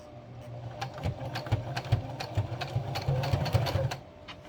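A sewing machine stitching curtain fabric as it is fed through, with quiet rapid mechanical stitching in short bursts and a few clicks, and no talking.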